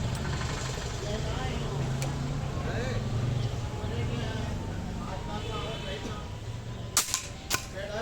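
A Px120 Bx3 Minotour PCP air rifle fires cheap pellets at a 30-yard target: two sharp, close cracks about half a second apart near the end, over steady background noise with people talking.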